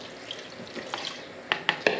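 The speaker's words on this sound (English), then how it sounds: "Now I'm going to add the clam juice." Canned clam juice pours and splashes into a chunky clam and corn chowder in a pot, a soft liquid rush followed by three quick wet plops.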